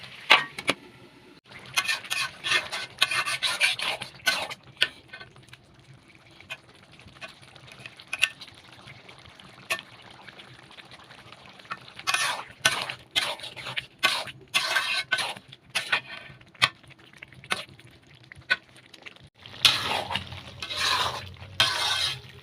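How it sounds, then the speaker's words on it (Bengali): Pumpkin and meat, sprinkled with fried onion and cumin powder, being stirred in a cooking pan, heard as scattered close scrapes and clinks of a utensil against the pan over a low sizzle. "পেঁয়াজ বেরেস্তার একটু জিরার গুঁড়া ছিটিয়ে এখন নেড়ে চেড়ে নিচ্ছি।"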